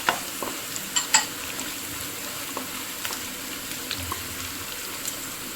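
Fried onions and coconut pieces tossed in a pan for a Kerala-style pork fry, with a steady sizzle under scattered light scrapes and clicks of the spoon.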